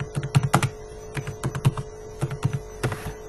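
Keys clatter on a computer keyboard as C++ code is typed, a close, irregular burst of clicks and taps over a faint steady hum.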